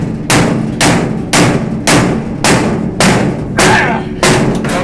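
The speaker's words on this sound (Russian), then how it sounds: "берем опять молоток и пробуем бить по ней" Six loud, evenly spaced hammer blows striking a ROSTEX QUADRUM protective lock fitting, each a sharp bang on metal with a short ringing tail, no talking.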